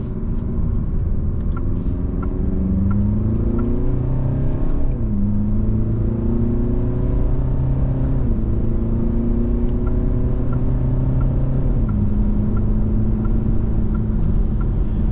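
An Alfa Romeo Giulia Veloce engine accelerating steadily, its pitch climbing then dropping at each gear change, loud and close with constant road rumble underneath.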